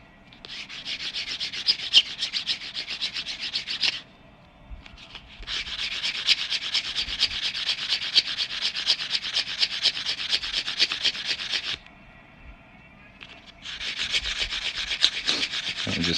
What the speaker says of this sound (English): I'm just sanding up the edges on this, making it nice and smooth.